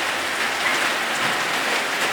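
Rain falls steadily, a dense, even hiss of drops close by that holds at a constant level without pauses or voices.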